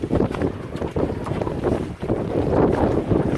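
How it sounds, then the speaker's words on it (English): A gust of wind sweeps over a small sailboat, giving a loud continuous rush and buffeting against the microphone, with water noise steady underneath and no voices. "Here's a little puff of wind"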